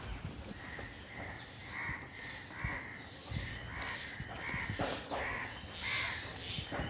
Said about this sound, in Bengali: কাক ডাকছে,